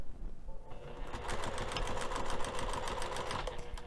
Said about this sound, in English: I'm actually going to be sewing with this circle face up on my sewing machine